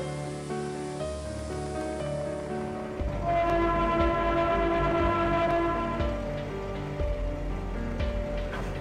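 Train KA406 departing Depok station toward Citayam in the Train Simulator video game, with a steady loud horn blast over the rumble of the moving train.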